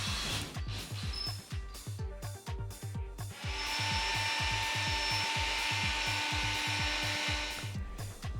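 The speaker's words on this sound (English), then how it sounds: "we drilled a big hole on the turnout so we could move the servo there" A small power tool drills a large hole through a model railway turnout, whirring steadily and close up with a rhythmic chattering pulse, rising to a louder sustained grind partway through.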